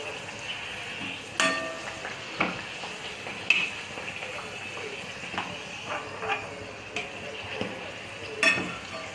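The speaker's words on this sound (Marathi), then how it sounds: "आता फुगते कारण तेल थोडंसं गरम झालेलं आहे आपलं. तर आता ही पुरी छानपैकी फुगेल" A puri fries and puffs in hot oil, a faint steady sizzle broken by scattered clicks and soft clinks of utensils.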